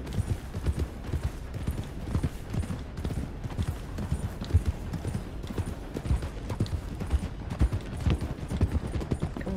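Horse hooves clip-clop steadily in the Red Dead video game, a brisk continuous rhythm of close hoof falls on the ground that carries throughout, with a voice faintly present.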